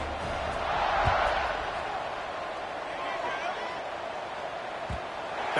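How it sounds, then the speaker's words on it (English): Stadium crowd in a college football video game, Tulsa at Fresno State, a steady loud roar of buzzing fans after a fourth-quarter score, continuous throughout with a commentator's voice over it. "this crowd is buzzing after that last score"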